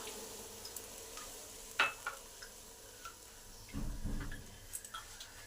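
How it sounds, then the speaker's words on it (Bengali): Chopped tomato and eggplant are stirred in a pan for eggplant bharta, giving faint, quiet sizzling with a couple of sharp utensil taps and a brief low scraping shuffle midway. "তারপরে নেড়ে নেবো, বেশি ভাজবো না।"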